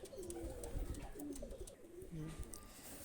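A pair of red-necked Pakistani running pigeons coo in repeated low, throaty warbles, close and fairly quiet, with faint background noise.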